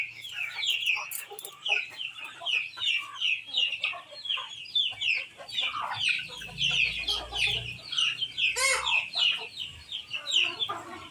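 Chickens in a backyard pen in the province cluck continuously at close range, with busy overlapping calls and a rooster crow mixed in, while a voice talks faintly in the background.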